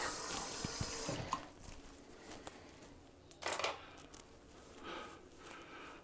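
Tap water runs and splashes in a bathroom while hair is re-wetted before a wet shave, a soft intermittent trickle with a few louder gushes and handling noises, fairly quiet and with no speech.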